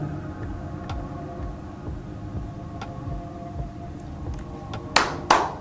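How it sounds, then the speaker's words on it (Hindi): Two hands clap twice in quick succession near the end, sharp and close, over a soft tonal background with no speech. "ताली बजाना, इसको इंग्लिश में कहते हैं क्लैप, क्लैप"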